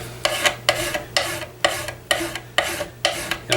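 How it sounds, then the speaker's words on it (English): Rhythmic strokes of a wide, coarse file taking down metal heads at a gunsmith's bench, seven rasping passes in a steady back-and-forth rhythm, close and clear with no talking. "I like the wider files so that you don't get ripples as you're working"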